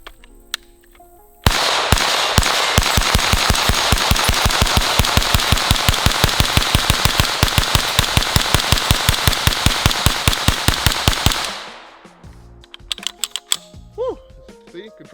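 A gun fires in one long, rapid automatic string of evenly spaced sharp reports lasting about ten seconds, loud and close, followed by a few faint clicks and handling noises.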